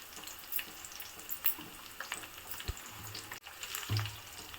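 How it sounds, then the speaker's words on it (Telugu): Broad beans (chikkudukaya) fry in oil with freshly added curry leaves, giving a faint, soft sizzle. A few light clinks and stirring bumps come through, with no speech. "ఇవి ఫ్రై అయ్యాయి కదా, కొంచెం కరివేపాకు వేసుకున్నాము"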